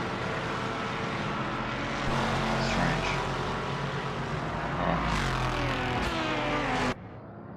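Ambient engine drone in the racing video game Project Motor Racing, a continuous rumbling motor hum with passing surges, briefly under a few spoken words.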